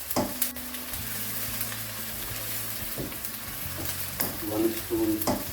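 Aubergine and potato curry being stirred in a pan, with a steady close sizzle and repeated spoon scrapes and knocks against the pan throughout.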